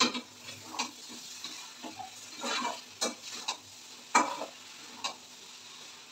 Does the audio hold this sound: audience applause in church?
no